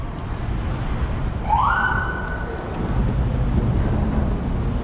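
A police siren sounds once in a brief rising wail over the steady rumble of New York City street traffic in Queens, fairly close and fading after a couple of seconds.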